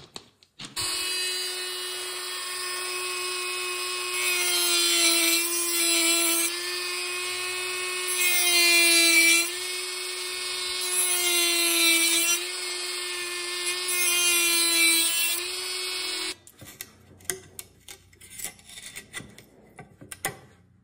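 A high, steady power-tool whine grinds through carbon fiber for an AR15 handguard in several sustained bursts with slight pitch shifts, then cuts off, leaving scattered clicks and handling noise.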